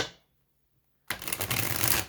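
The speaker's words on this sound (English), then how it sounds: "Just going to give them one more shuffle for Virgo." Tarot cards shuffled by hand for a reading, a dense, steady riffling rush that starts abruptly after a quiet pause and runs close and loud to the end.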